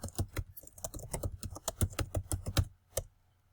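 Keys clatter on a computer keyboard during word-processing work, a quick irregular run of close, crisp taps that trails into a last isolated stroke before going quiet.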